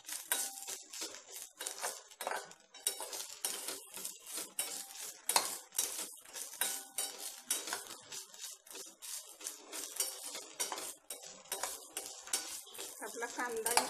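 Tomatoes sautéed in a pan for a drumstick curry, with repeated metallic clinks and scrapes of a spoon against the pan over a soft sizzle, steady and close throughout.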